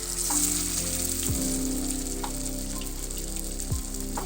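Marinated fish fries in hot oil with a loud, dense, continuous sizzle close by, broken by a couple of soft knocks from the pan, with no voices.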